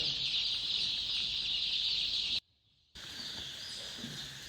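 Steady high-pitched cheeping of many young poultry chicks fills a brooding hall, dense and continuous, with a brief silent gap partway through.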